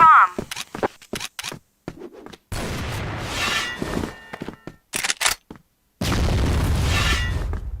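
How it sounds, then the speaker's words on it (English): Flash bombs going off in a video game, several sharp booms and bursts of noise in quick succession, mixed with a player's shouted callouts. "Fire in the flash bomb! Flash bomb!"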